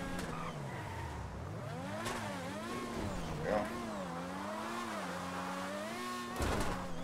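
A fast car in the video game GTA V drives and revs continuously, its engine pitch rising and falling as it shifts through gears, with brief bursts of tire or impact noise along the way.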